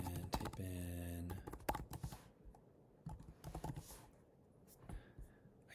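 Quick bursts of typing on a computer keyboard rattle close by, with clusters of rapid keystrokes separated by short pauses, and a voice is briefly heard near the start.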